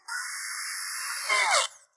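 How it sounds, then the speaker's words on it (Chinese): A power sanding tool grinds the damaged surface of a car air-conditioning pipe clean, a steady high whine held for over a second before its pitch sweeps and it cuts off, heard alone. "把需要粘补的地方打磨干净"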